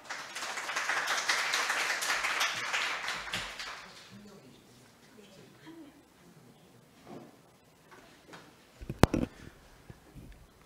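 At a civil-society digital security session, a short burst of audience clapping welcomes a speaker, fading after a few seconds into quiet room noise and small handling sounds.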